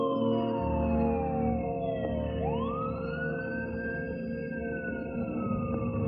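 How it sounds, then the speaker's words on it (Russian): A police car siren in a 1989 horror film wails with rising and falling sweeps over a loud, steady rumble of background noise, sounding fairly close, with no talk. "Мне кажется, это была полицейская машина."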